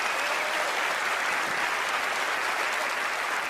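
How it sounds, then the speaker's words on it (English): Steady audience applause at a televised magic show, dense even clapping throughout with no voices. "Give her a nice round of applause."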